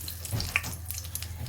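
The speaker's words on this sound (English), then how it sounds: "So once these spices start to sizzle a little" Whole spices sizzle softly in hot oil for a chicken and cabbage curry, a faint steady frying hiss with small crackles and no talking.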